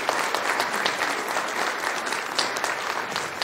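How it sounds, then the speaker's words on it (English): A town hall meeting audience gives loud, dense applause for panelists, a continuous roar of many hands clapping held at a steady level throughout. "Let's give a warm round of applause for our panelists,"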